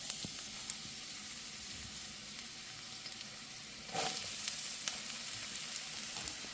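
Onions frying in regular vegetable oil in a pan give a steady, even hiss that runs throughout, with small pops and one brief louder spatter partway through.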